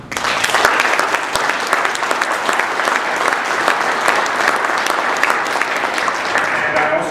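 Sustained applause from an audience at a Burlington Chamber of Commerce annual general meeting, steady dense clapping throughout without a break, with no talking heard over it.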